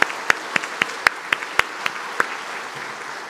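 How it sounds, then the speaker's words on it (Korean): A Sunday-service congregation gives a round of thanks applause for the pastor, with rhythmic, evenly spaced unison claps over a softer background patter, thinning out toward the end. "하나님 사랑, 사람 사랑의 말씀을 전해주신 우리 목사님께 감사의 박수 드리겠습니다."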